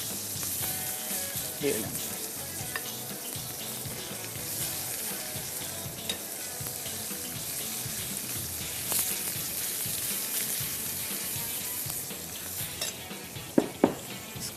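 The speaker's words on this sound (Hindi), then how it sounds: "अब चिकन को मैं ग्रिल पैन पे रख दिया है" Chicken sizzles on a grill pan over a low flame, a soft, steady frying hiss with occasional clinks of utensils and a few brief spoken words near the end.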